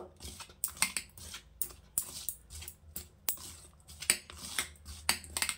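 Flour, mashed potato, sugar and a little oil mixed together in a bowl, giving a run of sharp, irregular clicks and taps up close, fairly quiet, with brief pauses between bursts.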